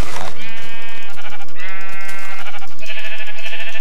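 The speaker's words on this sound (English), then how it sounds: "Ooh, sheep." Sheep in the Tekkit Minecraft modpack bleat loudly and close by, three drawn-out wavering calls one after another, with no talk over them.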